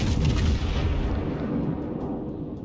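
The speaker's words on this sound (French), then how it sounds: "quelqu'un d'autre qui tire dessus, là, c'est un autre cuirassé, je pense" Heavy naval gunfire from the battleship Bismarck in World of Warships, a dense continuous roar of booming salvos and rumbling blasts that stays loud and sustained throughout, with no voices.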